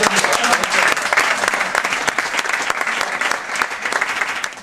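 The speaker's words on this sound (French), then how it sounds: "Applaudissements pour un" Crowd applause at a French football-themed gathering, many hands clapping in a loud, dense burst that stays strong throughout, with no voices on top.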